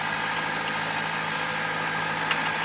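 A sailboat's engine runs while motoring in a windless calm, giving a steady, even mechanical drone with a constant low hum that holds at one level from start to finish, with nothing else heard.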